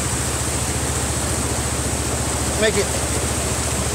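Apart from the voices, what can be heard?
creek water flowing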